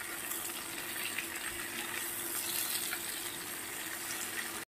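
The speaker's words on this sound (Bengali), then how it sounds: "তারপরে হলুদ লবণ দিয়ে জল দিয়ে দেবো" Water streams steadily into a pan of frying eggplant and tomato seasoned with turmeric and salt, producing a continuous close hiss and gush that stops abruptly near the end.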